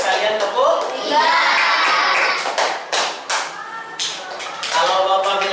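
Children clap out the number of rakaat for each daily prayer in a classroom game, short bursts of claps breaking through over a steady murmur of young voices.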